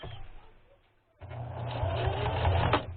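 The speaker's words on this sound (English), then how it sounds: "then I'll back stitch, then I'll go forward, back stitch" A sewing machine back-stitching ribbon trim onto socks, its motor starting after a brief pause and running in a steady, close mechanical whir with a quick stop near the end.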